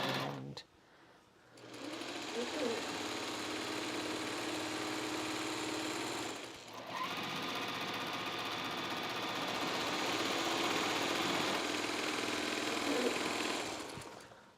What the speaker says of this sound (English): You're going to make the Juki whir?